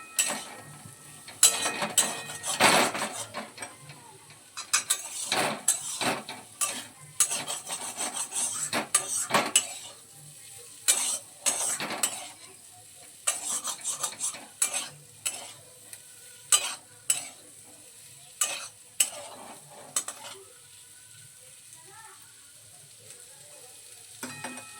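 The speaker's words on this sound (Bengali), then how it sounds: "এবারে আলুর সঙ্গে নুন এবং গোলমরিচ গুঁড়োটা খুব ভালোভাবে মিশিয়ে নেব" Potatoes being tossed with salt and ground pepper in a pan, with frequent metal spoon scrapes and clanks against the pan over a faint sizzle, in irregular bursts separated by short pauses.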